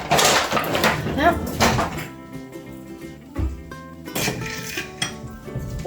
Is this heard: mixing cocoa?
yes